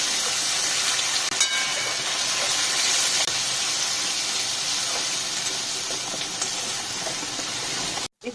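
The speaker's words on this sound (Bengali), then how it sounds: "এরপর আমি তেলের মধ্যে আদা দিয়ে দিচ্ছি।" Ginger dropped into hot oil with cracked cardamom while cooking a Bengali cauliflower roast, giving a steady broadband sizzle and hiss that holds evenly throughout and cuts off abruptly near the end.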